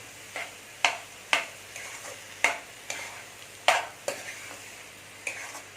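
Moong dal being stirred into sundaikai kootu in a pan, heard as a series of about ten distinct scraping, clacking strokes at a steady rhythm over a faint sizzle, close and alone without speech.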